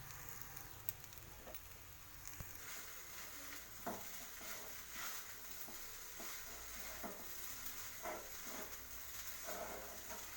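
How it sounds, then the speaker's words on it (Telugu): Rice mixed with a packet of masala stir-fried over a high flame, a faint continuous sizzle with intermittent soft scrapes and clinks of the spoon against the pan. "మిక్స్ చేసుకొని ఒక 5 మినిట్స్ హై ఫ్లేమ్లో ఫ్రై చేసుకోవాలి."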